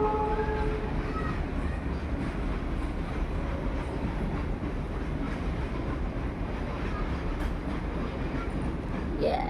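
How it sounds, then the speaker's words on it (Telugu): A goods train passes at a distance outdoors on an evening walk, giving a steady, continuous rumble throughout with wind buffeting the microphone. "అది ట్రైన్ వెళ్తుంది చూడండి,"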